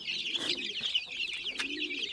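Pigeons coo softly at a home where pigeons and chickens are kept, a low murmuring call under a steady hiss of chirping birds nearby.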